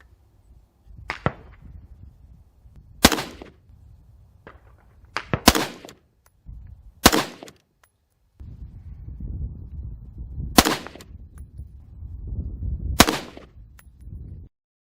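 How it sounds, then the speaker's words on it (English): Six sharp, loud unsuppressed shots from a 5.56 AR-15 rifle with a 12.5-inch barrel, fired one at a time at uneven intervals outdoors, each crack followed by a brief rumbling echo. "let's shoot it unsuppressed first"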